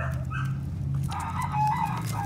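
A rooster crows faintly from a distance, the call partly buried under a low, steady rumble of background noise.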